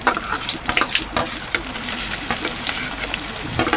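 Curry leaves and chopped onion frying in a pan, a constant hissing sizzle with scattered pops and stirring scrapes, close and fairly loud with no talk.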